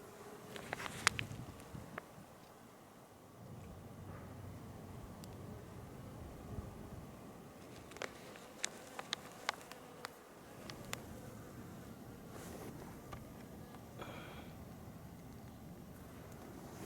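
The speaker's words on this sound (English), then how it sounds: "It's actually a bee there fanning for ventilation." A honey bee fanning its wings at the hive entrance for ventilation in a New England garden in February gives a faint, steady buzzing drone, with a few soft ticks and taps.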